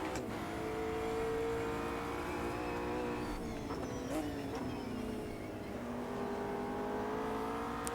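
A Ginetta GT race car in the racing game Automobilista 2, running an endurance race at Imola, gives a steady, sustained engine drone with its pitch rising and falling as gears change. Nobody speaks.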